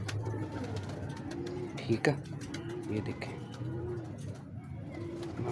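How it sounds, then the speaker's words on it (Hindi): A sturdy female pigeon, an old bird with a long-standing paralysis, coos in soft repeated low phrases at close range while someone talks over her. "बड़ी तगड़ी कबूतरी है"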